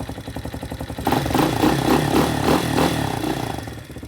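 A Spark SP250 motorcycle with a Loncin 250 single-cylinder engine running just after a valve adjustment, a close, steady idle that swells into a brief rev and then settles back to idle.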